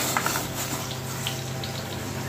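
Water with salt, turmeric, cloves, cinnamon and a little oil boils in a pot for cooking jackfruit, giving a steady, close, rushing bubble with no voices.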